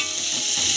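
Tomatoes frying in a pan while Maggi noodles with potato are cooked, giving a steady, close, broadband sizzle with no talk.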